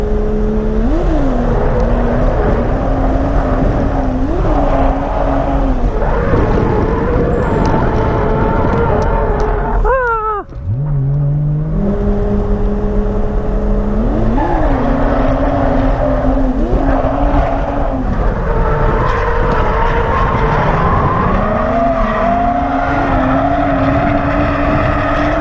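Drift cars at Matsuri run on a track at night, engines wailing and revving in rising and falling sweeps that overlap, with a brief dip before the screaming engine noise returns at full loudness.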